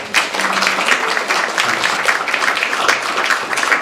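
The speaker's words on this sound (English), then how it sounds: "A round of applause for this very beautiful presentation." Applause from a lecture audience after a presentation, a steady wash of many hands clapping at moderate level with no talk over it, lasting the whole stretch.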